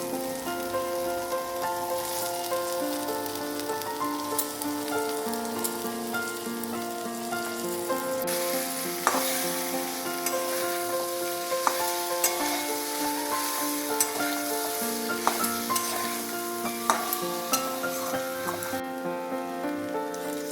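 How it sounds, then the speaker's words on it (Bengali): Fried cauliflower being stirred into a spiced masala for dhaba-style cauliflower and potato curry, giving a steady close sizzle with scraping spatula strokes and small clinks throughout, no talking. "মশলা কষে এলে ভেজে রাখা ফুলকপিগুলো মিশিয়ে ভালো করে নাড়াচাড়া করতে হবে"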